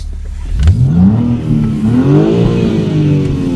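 A 2026 BMW X5 M revs hard as it pulls away in London, a loud close engine note rising and falling through quick pitch sweeps.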